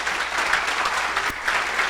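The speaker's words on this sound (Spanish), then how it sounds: "Despedimos entonces con un fuerte y caluroso aplauso" Applause from the audience at a conference on evapotranspiration and crop water needs: steady, dense clapping held at an even level for the whole short stretch, with no voices over it.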